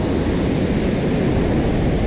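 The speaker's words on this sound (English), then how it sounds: "I'm hoping once the tide comes back in, these waves calm down a little bit" Ocean surf breaking on a beach during rough conditions, heard as a loud, continuous broadband roar of waves with no voices.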